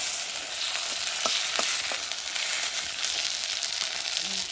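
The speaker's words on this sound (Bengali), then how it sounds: "এখন দিয়ে দেবো আদা বাটা, জিরে বাটা আর রসুন বাটা" Onion with ginger, cumin and garlic paste frying in a kadai, a steady, even sizzle with a few faint stirring clicks, close and continuous with no talk.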